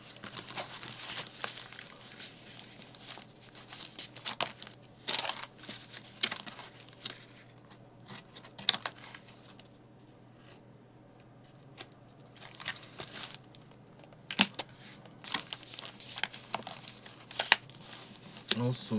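A paper bag is folded into an envelope, with soft crinkling and crisp paper creases in irregular bursts, close and fairly quiet over a low steady hum, while a person talks at times.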